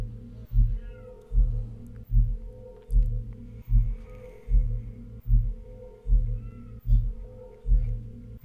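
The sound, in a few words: cat meowing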